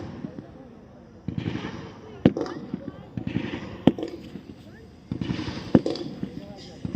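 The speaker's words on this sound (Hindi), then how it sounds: "यहां पर दुश्मन द्वारा फायर खोला जा चुका है।" Gunfire rings out during a military assault exercise, a few sharp single shots spaced well apart at middle distance. Voices talk beneath and between them.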